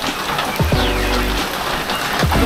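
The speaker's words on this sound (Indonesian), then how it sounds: "Masih hujan." Rain hisses steadily across the whole clip in Jakarta, with a low tonal hum swelling briefly in the middle.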